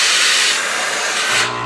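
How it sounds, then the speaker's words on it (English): A steam iron's boiler draws in water with a loud, steady hissing rush that softens near the end, close by and alone. "That noise you hear is just the boiler pulling water into it."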